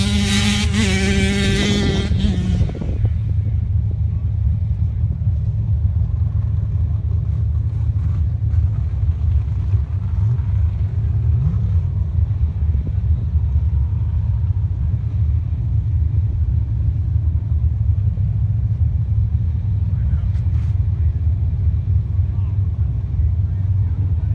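A Pro Mod drag race car engine at a drag racing qualifying session gives a loud burst, then a deep, steady rumble that holds for over twenty seconds with outdoor wind and crowd ambience.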